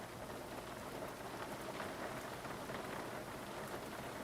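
Rain in a flight simulator, a steady, faint hiss of falling rain and drops on the surface, with soft thunder-like rumble underneath, continuous and without voices.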